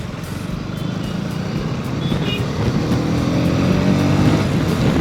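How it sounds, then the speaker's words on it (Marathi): Heavy road traffic flows past on a congested street, with a continuous engine rumble from trucks and cars that swells slightly louder toward the end and no speech. "आणि या ट्रॅफिकचं काय करायचं, कंटिन्यू जेव्हा पण आलो ना तेव्हा पार इथपर्यंत ट्रॅफिक असते."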